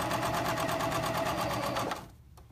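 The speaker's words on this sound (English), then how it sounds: "I'm gonna go ahead and actually stitch that binding down in my sewing machine" A sewing machine stitches binding down on a pullover garment in one close, rapid, even run of needle strokes that stops abruptly just before the end.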